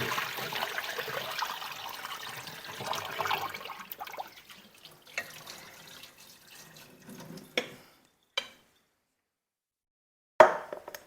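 Potatoes rinsed under a running kitchen tap, a soft steady splash of water for several seconds, then a few brief bursts and clunks with quiet gaps between.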